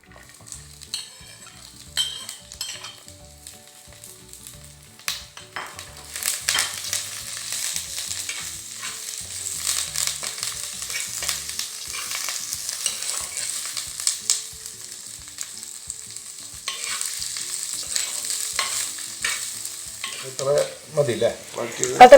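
Ingredients for a Kerala-style kolan fish curry sauté in hot oil in a clay pot, giving a continuous crackling sizzle that swells and fades as a spoon stirs and scrapes against the pot.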